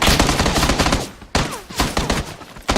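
Rapid bursts of Uzi submachine-gun fire in the PUBG video game, loud, sharp automatic volleys with short pauses between them and no talk over them.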